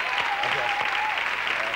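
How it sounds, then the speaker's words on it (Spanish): A theatre audience at a Spanish comedy show breaks into a brief burst of dense, even clapping. "Manolo Cal, un fuerte aplauso para él."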